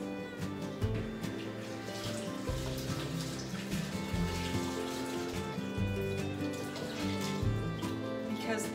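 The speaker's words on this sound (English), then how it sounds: "hold on, I gotta wash my hands." Water runs steadily from a kitchen tap as hands are washed mid-way through making lemon meringue pie, a continuous close splashing hiss with no speech over it.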